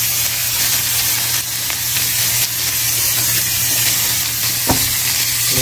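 Beef with mushroom sizzles loudly and steadily in a heated pan, a close, dense frying hiss with one brief utensil clink near the end.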